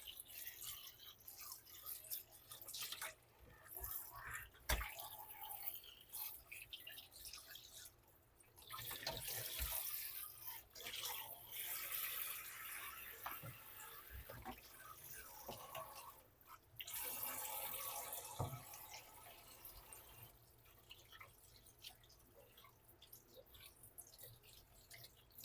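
Six eggs rinsed under a running kitchen tap, the water flowing and splashing quietly into a sink in uneven bursts with faint drips and clinks between, no voices.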